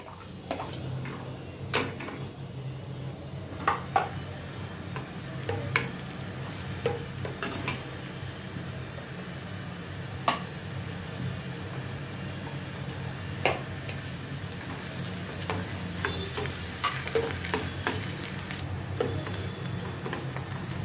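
Chopped onion sautés in a pan for a home-style mixed vegetable sabzi, with a steady soft sizzle and occasional sharp ticks and clinks of a spoon stirring against the pan.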